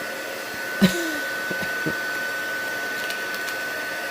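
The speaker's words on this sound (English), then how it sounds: "So use your heat tool, heat up that adhesive just a little bit, and it will come off a lot easier." Heat tool blowing to warm adhesive on a paper craft piece, a steady airy whir held close, with a few light taps and handling clicks over it.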